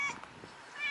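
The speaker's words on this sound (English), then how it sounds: "there's Mama Kitty" A mother cat meows outdoors for attention, a brief, faint call under a quiet background hiss.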